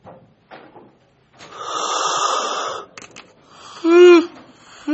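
A teacher's yawn, a drawn-out breathy exhale with a rising voiced groan near the end, close to the microphone in a quiet classroom.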